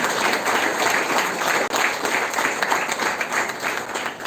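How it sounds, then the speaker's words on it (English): A crowd at an event gives a big round of applause to the organizers, thick continuous clapping with one brief dip partway through before it carries on steadily. "because they definitely deserve a big round of applause"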